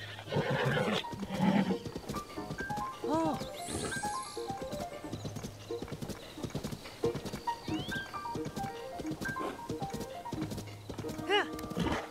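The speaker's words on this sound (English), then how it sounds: "Ooh, there is some other horses." Horses in Zelda: Tears of the Kingdom, with steady hoof clip-clops and several rising neighs and whinnies over game music, while a person talks over parts of it.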